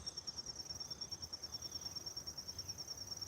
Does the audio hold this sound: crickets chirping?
yes